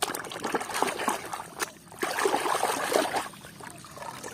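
Water trickles and splashes in a steady stream as toy vehicles such as an excavator, racing car, tractor, train, jeeps and a garbage truck are rinsed clean, the splashing busy and close with a brief lull midway.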